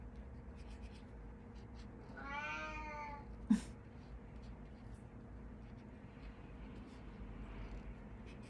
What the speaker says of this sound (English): has the worst meow on the planet